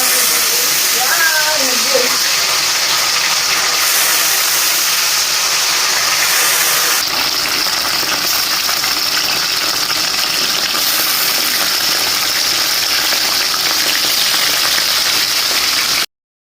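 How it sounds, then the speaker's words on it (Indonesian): A steady, dense hiss and sizzle of food frying in hot oil, loud and continuous throughout with no pauses, ending abruptly. "Minyaknya udah panas, aku mau goreng."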